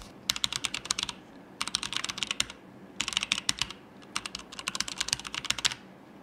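Typing on a mechanical keyboard fitted with red Cherry switches, four quick bursts of crisp, close key clicks with short pauses between, alone and fairly quiet.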